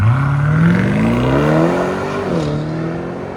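A 2021 BMW M850i with a 4.4-liter twin-turbo V8, X-pipe and straight pipes accelerates hard, its loud exhaust note rising steadily in pitch, dipping briefly at a shift, then climbing again.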